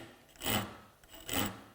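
A micro bevel is honed on the tooth tips of a frame saw, heard as two short rasping strokes about a second apart, close and alone.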